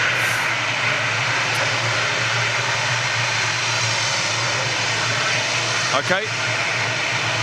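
Jet airliner powered by Rolls-Royce RB211 engines at Manchester Airport, a steady, loud, broad engine roar that holds throughout, with a brief voice near the end.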